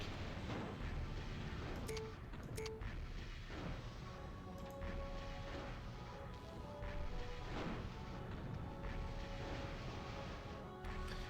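Weapons fire in the mech strategy game MechCommander Gold: a continuous barrage of deep booms and blasts with rumbling impacts, dense and loud, with occasional short tonal beeps over the battle noise.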